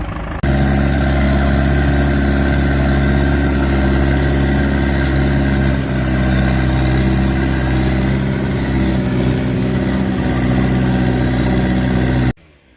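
A grapple skidder's diesel engine runs steadily at close range for about twelve seconds, a loud, even low rumble with a faint high whine on top, cutting off abruptly at the end.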